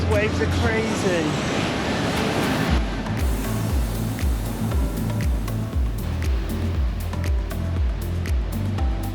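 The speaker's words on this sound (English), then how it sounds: "These waves are crazy." Loud, continuous surf roar with waves crashing close by at Mahana Point on Nusa Ceningan, a steady rushing wash throughout and a low rhythmic pulsing underneath.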